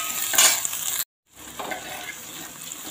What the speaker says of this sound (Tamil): இந்த வெங்காயம், பூண்டு வதங்கிட்டு இருக்கும்போதே இந்த ரெசிபிக்கு தேவையான உப்பை சேர்த்தே வதக்கிக்கலாங்க.